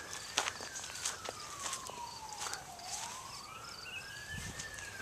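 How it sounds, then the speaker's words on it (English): A distant tornado siren wails slowly down and back up in a long continuous sweep, with scattered crunching steps and clicks close by. "tornado sirens were going"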